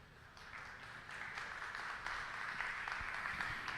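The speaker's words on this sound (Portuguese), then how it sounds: "Por favor, uma salva de palmas." An audience at a panel event on bioeconomy investment applauds, clapping building from a moderate start to a steady, dense wash that holds throughout.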